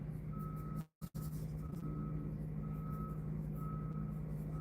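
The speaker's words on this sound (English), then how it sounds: "I wonder if you guys can hear that beep, beep, beep." Steady electronic beeping repeats at an even pace over a constant low engine hum, like a reversing truck outside; a brief dropout interrupts it near one second.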